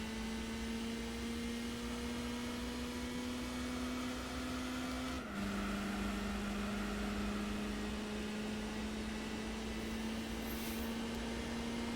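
A Mitsubishi Lancer Evolution engine in Gran Turismo 4 holds a loud, sustained drone whose pitch climbs slowly, drops sharply around a gear shift, then rises again. No voices are heard.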